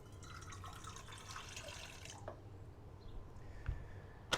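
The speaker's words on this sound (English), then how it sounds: "We're gonna put this cup of water in the mixer." A cup of warm water pours into a stand mixer bowl for pizza dough, a steady splashing trickle for about two seconds that then stops, followed by faint handling knocks.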